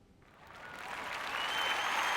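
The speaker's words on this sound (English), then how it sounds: "Thanks for the applause." Passenger applause in the Toliss A320 NEO flight simulator game, a cabin crowd clapping that swells steadily from quiet to a full, dense ovation, with no talking.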